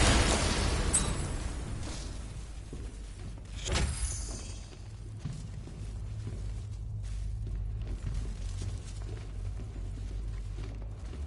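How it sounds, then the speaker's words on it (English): An explosive detonates in a Batman game: a loud, broad blast opens the clip, a second burst follows about three seconds later, then a long low rumbling tail with scattered crackles. "I need to be at a safe distance before I detonate."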